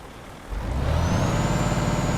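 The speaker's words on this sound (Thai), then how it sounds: "ว้าวทำไมเสียงรถเยอะจังอะ" Truck engine in Euro Truck Simulator 2 starts up and settles into a loud, close, steady diesel rumble, with a thin whine rising over it.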